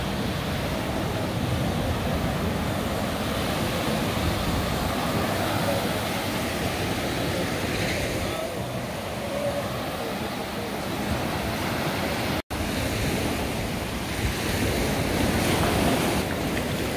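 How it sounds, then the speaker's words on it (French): Intense ocean waves crashing at Palomino beach, Colombia, a loud continuous roar of surf with strong wind buffeting the microphone throughout, and no voices. "Les vagues sont vraiment intenses."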